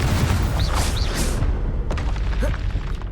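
Confringo blasting spell explosions in the Hogwarts Legacy video game, a loud dense burst of booming blasts and crackling debris over the first second and a half, then scattered thuds and whooshing tails fading off.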